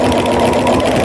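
A home sewing machine fitted with a walking foot stitches quilting through a jelly roll tree skirt, giving a steady, close mechanical whir that runs unbroken on its own.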